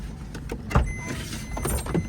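A large sleeper coach bus pulls up, giving a low engine rumble with a few soft clunks and rattles, fairly quiet and without talk.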